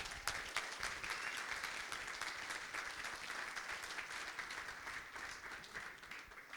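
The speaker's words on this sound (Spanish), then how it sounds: "Así que un aplauso para Matías." Audience applause for a speaker named Matías at a game design conference, a dense steady wash of many hands clapping throughout, fairly distant and even in level.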